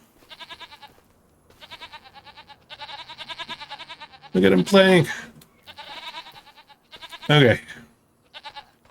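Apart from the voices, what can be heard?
goats bleating in video game Farming Simulator 25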